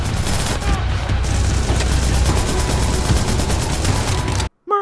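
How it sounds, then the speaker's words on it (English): Loud, dense machine gun fire in a Splinter Cell Spies vs Mercs game trailer, a continuous roar of rapid shots and booms that cuts off sharply at the end, with a voice talking over it. "Mercs get machine guns!"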